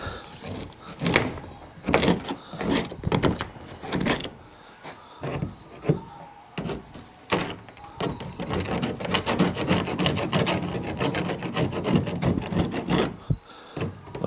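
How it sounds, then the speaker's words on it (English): Old sealant being scraped off the roof of a semi trailer around a former vent opening, with close, repeated rasping strokes in irregular bursts, some short and sharp, others longer and continuous. "what I'm scraping off is some of the original sealant from when the vent was here"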